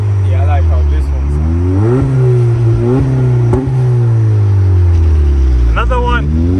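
Honda Accord Sport (2018–2021) with a DC Sport exhaust revving at a car meet, loud close engine swells rising and falling in pitch, with people talking nearby.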